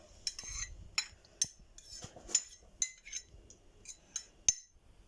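Utensils clinking against a bowl while stale bread salad is tossed with kashar and çeçil cheese and parsley: quiet, irregular metallic taps and scrapes, roughly ten sharp clinks spaced through the stretch.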